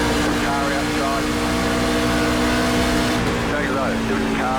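Race car engines drone steadily on an oval track in iRacing, a continuous loud roar with shifting pitch as cars pass, with a spotter's voice talking over it.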